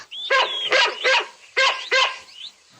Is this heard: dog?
yes